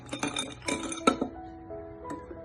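Ice cubes dropped into a glass at a school science demonstration, giving a few bright clinks and knocks in quick bursts, close and clear, with a faint ringing tail after the last taps.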